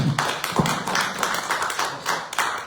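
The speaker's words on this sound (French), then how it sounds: "Vous pouvez l'applaudir aussi, Jean-Marie." Applause for a speaker at a press conference, a close, fairly loud group clapping in uneven rhythmic bursts that carry on steadily without pause.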